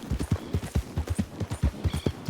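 Horse hooves clip-clop on a ranch in the Western game Red Dead Redemption 2, a steady, close, evenly paced run of hoof beats with no talking.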